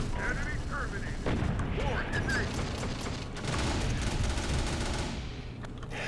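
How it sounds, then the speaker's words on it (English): Artillery shells explode amid steady gunfire in a video game battle, a dense, continuous roar of booms and crackling shots with a few sharp hits, while people talk over it. "How big was that explosion"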